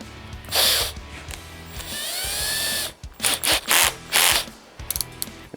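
A power drill fitted with a small 1/8 inch bit whirs loudly up close in several bursts, with a sustained run in the middle and shorter on-off pulses after.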